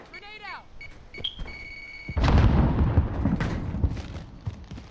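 A grenade blast in a first-person shooter game: after brief electronic beeps and tones, a loud, sudden boom erupts and rumbles on for a couple of seconds amid game sounds.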